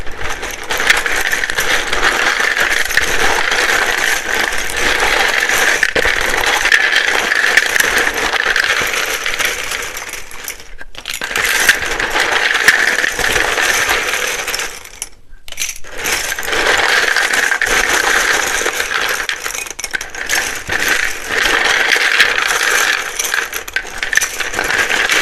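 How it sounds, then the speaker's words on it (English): A deck of tarot cards is shuffled loudly and close up in a steady, dense rattle that lasts almost the whole time, broken by two brief pauses. "It can be very loud when I shuffle these."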